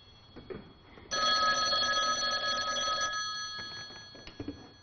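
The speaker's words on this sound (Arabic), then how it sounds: "الو ناخذ اول اتصال نهار اليوم." A telephone rings once in a steady two-second electronic burst, loud and close, with faint room noise and brief clatter around it, in a TV cooking show kitchen as a call-in segment begins.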